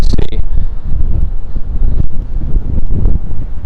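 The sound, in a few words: strong wind in New York City street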